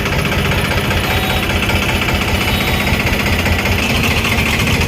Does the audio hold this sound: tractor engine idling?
yes